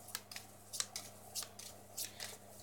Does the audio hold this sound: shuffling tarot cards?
yes